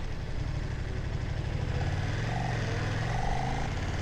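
A KTM 1390 Super Duke R Evo motorcycle engine thrums steadily at a low, even pitch, moderately loud and continuous, with faint wind noise and no voices.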